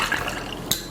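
Pineapple juice pours into a cocktail glass, a short liquid trickle with a small clink near the end, close and fairly loud.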